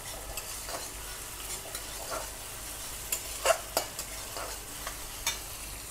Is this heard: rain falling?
no